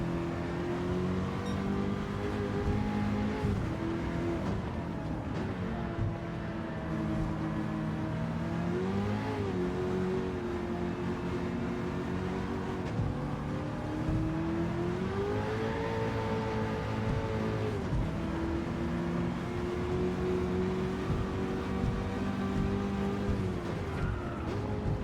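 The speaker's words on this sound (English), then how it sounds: "It's that wheel spin, just making those rear tyres squeal, but the grip is losing." A Toyota Hiace van with a swapped engine in Gran Turismo 7 on a race lap, rear wheels spinning: a steady, loud engine drone whose pitch rises and falls with throttle, with an ongoing tyre-squeal edge.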